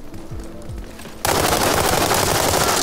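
Weapons fire in the World War 3 video game: after about a second of quieter low rumble, a dense, loud, continuous burst of shooting breaks out and keeps up to the end.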